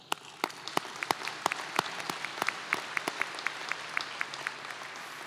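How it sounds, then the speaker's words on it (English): Scattered, sharp individual handclaps from a small audience at a fall 2020 College of Nursing and Health Professions commencement, irregular and sparse over a faint room hum, never building into a dense roar. "Let's take a moment to applaud"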